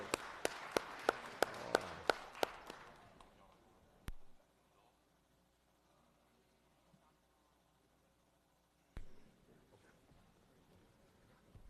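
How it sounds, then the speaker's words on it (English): A short burst of applause rings out in the Georgia Senate chamber, a run of sharp claps over the first couple of seconds that quickly thins and fades, leaving a quiet room with a couple of isolated knocks. "Let's give them a round of applause."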